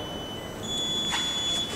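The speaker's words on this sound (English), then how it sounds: "now we're having the alarm on the gas" A gas detector alarm sounds a steady high electronic tone continuously over faint background hum, rising slightly in level partway through.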